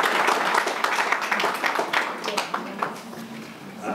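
Audience applause in a synagogue hall in London, a dense patter of clapping that thins and fades over a few seconds, close and fairly loud.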